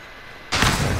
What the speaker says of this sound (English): A grenade somewhere.